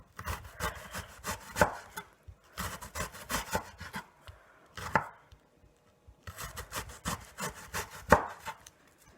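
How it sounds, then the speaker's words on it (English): An onion is thin-sliced with a knife on a cutting board in three quick bursts of rapid, rhythmic chopping strokes, each run of crisp taps separated by brief pauses, close and moderately loud. "Some nice thin slices here. Very nice, very nice. And we're still not even going to use this entire onion."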